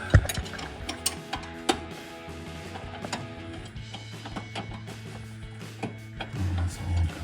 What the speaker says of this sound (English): now we will tighten our bolt down with that regular ratchet strap.